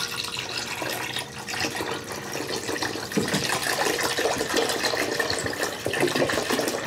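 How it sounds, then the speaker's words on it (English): Steady, continuous splashing of a gallon of apple cider poured into a pot, a broad liquid rush that swells slightly louder partway through and keeps going without pause. "I want to put 1 gallon of apple cider"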